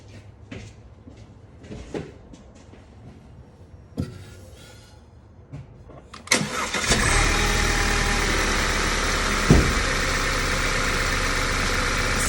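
Audi 2.0T TFSI engine, fitted with a faulty breather and PCV oil separator, cranks over at about six seconds and settles into a steady, loud idle after a few quiet workshop clicks and taps.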